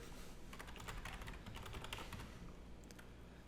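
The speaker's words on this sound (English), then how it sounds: "So we can just go ahead and pretty much just type in our email here." Quick, steady keystrokes on a computer keyboard as an email address is entered, soft and close with a dense run of clicks that thins out toward the end.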